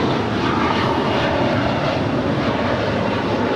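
An Alaska Airlines jet taking off at LAX roars as a loud, steady broadband rumble and wash, constant for several seconds with no speech.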